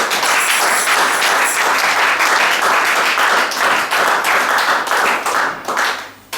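Church congregation applauding the Lord, loud sustained clapping from many hands filling the room, fading toward the end.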